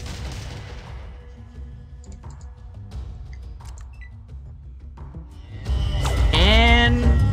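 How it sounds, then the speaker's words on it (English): Gunfire from burst-fire weapons in the video game Fallout 2, loud bursts of shots and booms over a dense game soundtrack, growing louder near the end with a rising whine. "I want burst fire."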